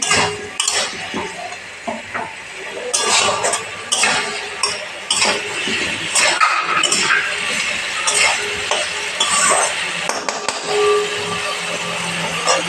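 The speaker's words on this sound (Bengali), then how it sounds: "এবার ঢাকা খুলে দেখব তেল ছাড়তে আরম্ভ হয়ে গেছে আলুগুলো দিয়ে দেব কষাতে থাকবো" Potatoes being stirred and sautéed in oil in a pan for an egg curry, with loud close spatula scrapes, clinks against the metal and a soft sizzle throughout, no talk.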